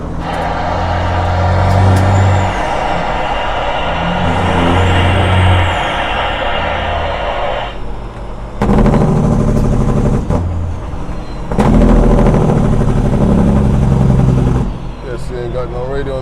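A Peterbilt 379 truck with a Caterpillar engine and 18-speed transmission roars loudly from inside the cab, its engine surging and dropping as the engine brake barks in harsh bursts, with someone talking over it.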